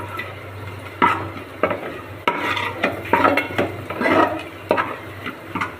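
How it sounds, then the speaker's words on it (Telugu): A spoon stirs a pinch of turmeric into tomato rasam in a metal pot, producing repeated clinks and scrapes against the pan over a low background hum, with a soft simmer underneath. "పసుపు వేసుకొని కలుపుకుందామండి"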